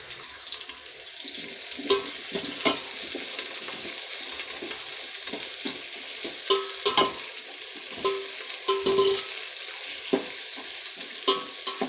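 Steady crackling sizzle of onions frying in hot oil, with intermittent scraping and clinking as they are stirred, close and continuous throughout.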